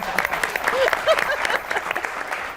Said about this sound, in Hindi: ये सबसे ज्यादा तालियां इन्होंने बजाई है